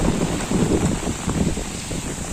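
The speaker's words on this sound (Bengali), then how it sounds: "এখনও প্রচণ্ড বাতাস প্রচুর বৃষ্টি হচ্ছে" Strong wind roars with heavy rain pouring down during a storm, a dense, steady wash of noise with gusty buffeting close to the microphone and no voices.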